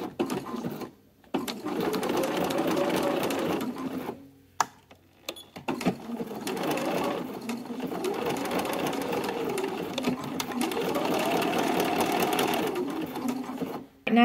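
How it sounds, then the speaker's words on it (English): Close, loud sewing machine running a zigzag stitch over the seam of boxer shorts, sustained whirring runs broken by short pauses, with a few clicks in the gaps. "we are ready to do our little bit of zigzagging over this to make it nice and secure"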